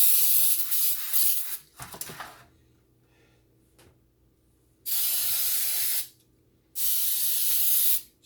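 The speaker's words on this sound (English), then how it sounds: "I'm gonna go ahead and spray my pan with some Baker's Joy" Baking spray hisses from an aerosol can into a pan in three bursts: a longer one at the start, then two steady ones later, separated by near-silent pauses.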